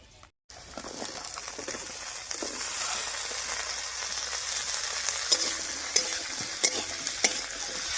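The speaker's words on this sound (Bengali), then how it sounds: "পেঁয়াজ, রসুন, কাঁচা লঙ্কা হালকা ভাজা ভাজা হয়ে গেছে। এবারে কেটে রাখা আলুটা দেব।" Cut potatoes go into a pan with lightly fried onion, garlic and green chili, where they are stirred, giving a steady, close sizzle with scraping stirring strokes and a few sharper crackles.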